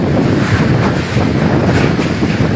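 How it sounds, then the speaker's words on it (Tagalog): Strong typhoon wind roars steadily across the microphone, a loud continuous buffeting rumble with no voices. "Grabe, kakusok ang hangin diri."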